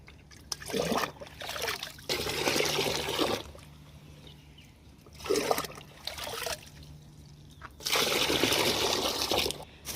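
Water is poured in three separate, splashing streams onto soaked oil cake fertilizer for garden plants, each pour a few seconds long and close by, with quieter gaps between them.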